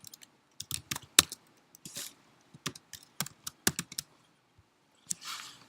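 Keys clatter on a computer keyboard in short irregular bursts, crisp and close, with brief pauses between groups of strokes and no talk.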